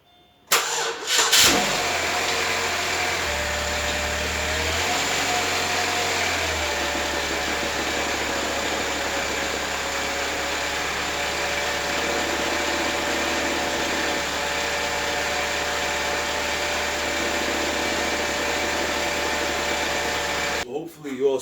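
A Chevrolet Malibu engine cranks and catches, then settles into a steady, loud idle that runs on continuously without speech.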